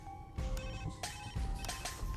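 Telephone bell ringing in repeated bursts at a live local TV broadcast studio, with bright, clattering rings starting and stopping in quick succession, fairly close and alone.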